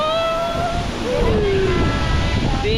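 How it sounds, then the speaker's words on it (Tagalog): Tinuy-an Falls in Bislig City, Surigao del Sur, roars as a constant broadband rush of falling water close by, with gusty wind buffeting the microphone and whistling tones over it. "Yung bagsak ng tubig."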